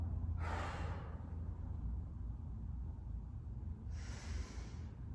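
Deep breathing during a glute and piriformis stretching exercise: a slow, audible inhale, a pause, then a breathy exhale, close by over a steady low background hum.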